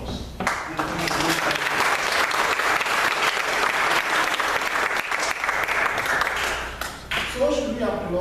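A church congregation applauds warmly, dense sustained clapping filling the room for several seconds before tapering off, with a voice rising at the end.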